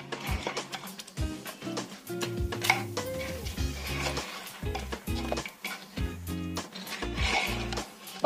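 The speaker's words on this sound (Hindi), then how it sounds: "और सारी चीजों को अच्छे से मिक्स कर लेंगे।" Goat head curry with water and ground spices being mixed in a pot, heard as dense metallic scraping and clanking of a utensil against the pan, continuous and close with repeated strokes.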